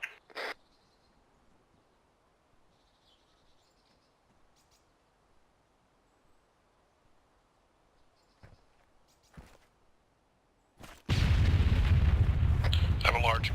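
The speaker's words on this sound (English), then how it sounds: "I have a large explosion, unknown origin." A large explosion in the Arma 3 military game, set in Takistan, lands as a sudden loud boom near the end after a long stretch of quiet. Sparse radio chatter and faint sounds come before it.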